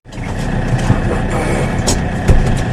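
Farm tractor engine, heard as a close, steady mechanical drone with small knocks and clunks over it, starting abruptly and running continuously.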